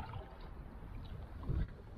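An Enigma 15 canoe is out on the water for the first time. Its paddle gives a quiet, close wash of water with one soft, low splash of a stroke near the end.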